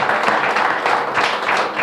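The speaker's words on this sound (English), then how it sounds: "Big round of applause for him." A big round of applause fills a benefit taping at Bono's for the Fairdale tornado victims, loud dense clapping from a crowd held at an even level throughout, close and without speech over it.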